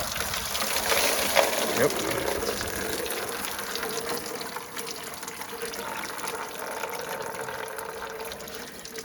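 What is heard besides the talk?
coolant flushing out of a 1986 Ford F150 hose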